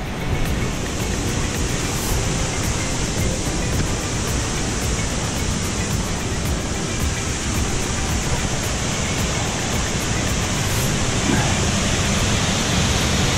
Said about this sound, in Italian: più bella la cascata